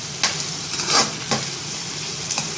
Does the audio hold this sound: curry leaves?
yes